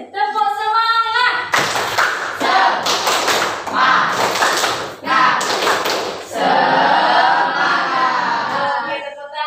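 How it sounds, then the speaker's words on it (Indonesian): A school class performs a rhythmic clapping chant, bursts of many hands clapping together in quick patterned groups, loud and near, with children's voices chanting between and around the claps. "Sekarang kita tepuk semangat."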